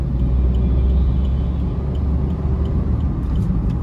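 A CNG car engine drones steadily with a deep low rumble, heard from inside the vehicle while driving during monsoon.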